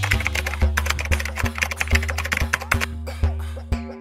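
Rapid typing on a computer keyboard, a close series of crisp key clacks in an uneven rhythm, heard alone.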